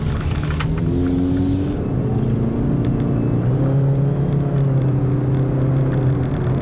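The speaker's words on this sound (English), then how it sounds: "You're going to still have to get used to the CVT drone that this vehicle has" Steady low engine and drivetrain drone from a 2013 Ford Fusion Hybrid with a CVT while driving on the road, a continuous moderately loud hum with sustained tones rising and falling slightly, no speech over it.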